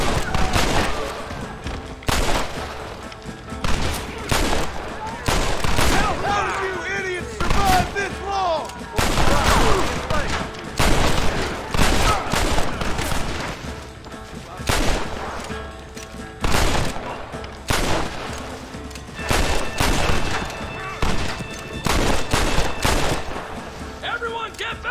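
Intense gunfire from a shootout in the Western video game Red Dead Redemption, with loud, dense bursts of shots overlapping and repeating throughout, mixed with shouted voices.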